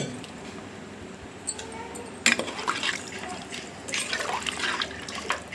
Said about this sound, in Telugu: ఇది ఒక లీటరు వాటర్ని పోసుకోండి